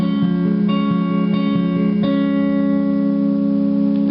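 An electric guitar plays the chord riff from a worship song, the same sustained strummed figure repeated several times with clean, ringing notes and no talking.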